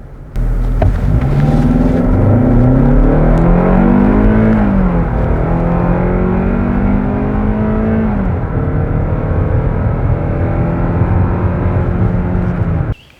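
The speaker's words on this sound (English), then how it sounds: "Let's go ahead and do a 0 to 60." A 2025 Hyundai Tucson with its base engine accelerates hard from 0 to 60, the engine note climbing steadily through several rising gear sweeps with shift dips, loud and continuous from inside the cabin, with no talking.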